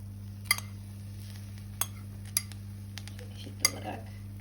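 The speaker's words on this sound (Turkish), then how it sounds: "Şimdi salça sosumuzu yavaş yavaş üzerine yerleştiriyoruz." A spoon clinks against a baking dish while tomato paste sauce is spooned onto eggplants for oven-baked eggplant with minced meat: four or five sharp, scattered metallic taps over a quiet steady hum.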